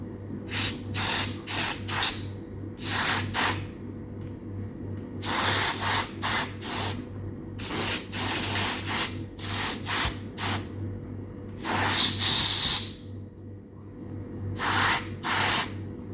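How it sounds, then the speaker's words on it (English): Oven cleaner hisses from a spray can onto an infrared cooker in a long series of short bursts, some quick and some held longer, close by with a low hum underneath. "let's spray this with the oven cleaner"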